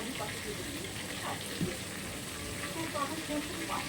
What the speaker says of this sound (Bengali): মাছগুলো এভাবে ভেজে নিতে হবে।